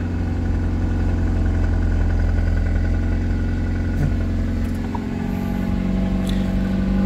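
A cold Toyota Vios Limo engine idles steadily and evenly, a constant low rumble with no talking, holding the same level throughout.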